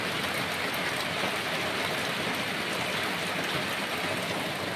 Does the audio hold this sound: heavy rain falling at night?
yes